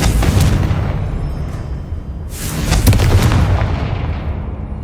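Fire spell explosions in the Hogwarts Legacy video game, a dense continuous rumble of booming blasts with sharp bursts cracking out loudly, several hits layered back to back with no talk.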